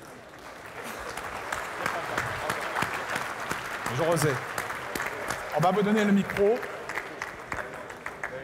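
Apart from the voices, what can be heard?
audience applause for Roger Zerniak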